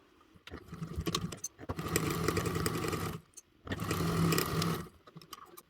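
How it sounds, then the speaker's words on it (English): A sewing machine stitches a zipper to a lining at a quarter-inch seam in two sustained bursts of rapid mechanical whirring, with short pauses and a quiet handling click between runs. "we're going to sew that together with a 1/4 inch seam allowance"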